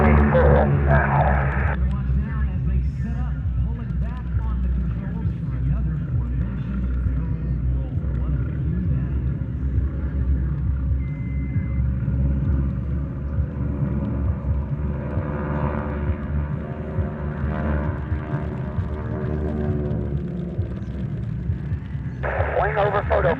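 Aerobatic aircraft of the Titan team roar steadily overhead in formation at a Louisiana airshow, a loud sustained engine drone with shifting pitch under an announcer's voice and crowd noise.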